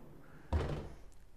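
A soft-close kitchen drawer in a modular home slides shut with a single muffled thunk that fades gently, heard close and alone against a quiet room.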